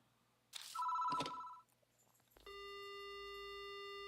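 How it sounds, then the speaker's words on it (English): Telephone ringing in the horror adventure game Death Mark: a bright electronic ring bursts out, cuts off, then a steady sustained tone with harmonics hums on alone at moderate level. "The phone begins to ring."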